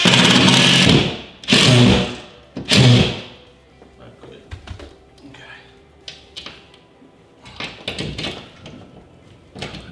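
A power tool drives a lag screw into a wall stud while a TV wall mount bracket is installed, with three loud whirring bursts at the start followed by quieter clicks, handling noise and speech.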